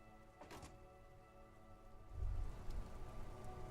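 Soft rain patters steadily in the video game Disco Elysium, a faint wash of drops with a dull thunk near the middle.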